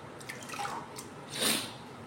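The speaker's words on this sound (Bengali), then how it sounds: "দেখুন খুব আস্তে আস্তে আমি জল দিচ্ছি" Water poured slowly into an aquarium, a soft brief trickle and splash that swells for a moment near the end of a short, quiet stretch.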